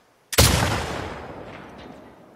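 A single loud gunshot in The Last of Us Part II, fired at a red sign: one sharp, close crack that rolls out into a long fading echo.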